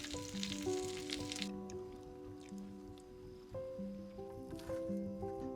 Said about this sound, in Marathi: चिकनसुद्धा झालं आहे, हे काय मस्त फ्राय झालं आहे दोन्ही बाजूनी.